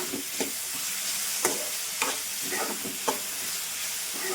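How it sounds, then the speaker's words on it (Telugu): Onions and tomatoes frying together in a pan for an Andhra-style broad bean and tomato curry, giving a steady soft sizzle with several sharper stirring scrapes and clinks spread across the clip, close by and with no talking. "ఉల్లిపాయ వేగిపోయిందండి. టమాటాలు వేస్తున్నాను."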